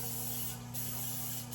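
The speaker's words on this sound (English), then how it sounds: "I got avocado oil spray instead of just regular Pam" A steady pressurized hiss of avocado oil cooking spray coats a pan, close and continuous for under two seconds with a brief dip midway, over a low steady hum.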